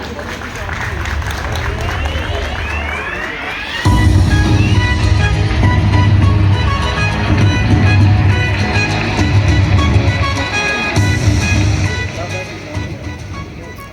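Audience applause welcoming Hamid Mir on stage at a Mega Star Cricket League event at Gaddafi Stadium, Lahore, a steady loud crowd wash that swells midway and continues for several seconds with voices mixed in.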